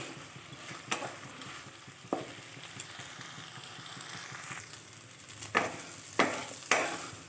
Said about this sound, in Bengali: চিংড়িটাও ভাজা হয়ে গেছে